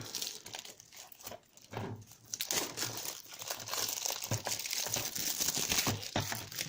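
Plastic shrink-wrap foil being torn and crinkled off a boxed PC copy of Call of Duty: Black Ops, a close, steady crackling and rustling that grows busier and louder partway through, with no talk.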